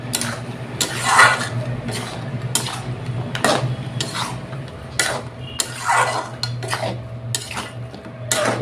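A spoon scrapes and clanks against a pot while stirring a begun and fish-head curry, with repeated irregular metallic strokes over a low steady hum of the stove.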